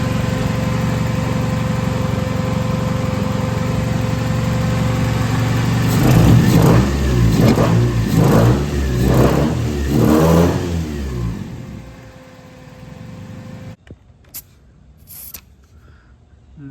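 A cheap right-hand-drive car's engine warming up, a steady loud idle broken by a series of about five sharp revs rising and falling in quick succession, then dropping off abruptly near the end with a few faint clicks.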